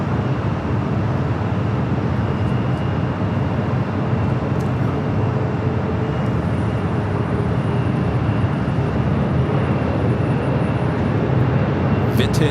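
A British Airways airliner taking off at LAX, its steady, loud jet roar sustained and broadband throughout with no break.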